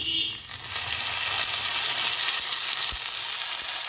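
Cumin seeds and curry leaves crackle and sizzle in hot ghee and oil for pongal, a dense continuous frying hiss heard close with faint stirring.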